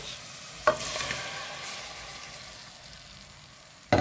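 Fish frying in a pan with coriander and parsley: a continuous close sizzle and crackle, with a sharp utensil clack near the start and another at the end, fading slightly toward the end.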